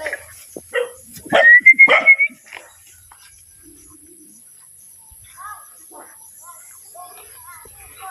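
A puppy on a rural farm gives a quick burst of loud, high yipping barks in the first two seconds, then only faint scattered chirps and small noises follow in a quiet outdoor setting.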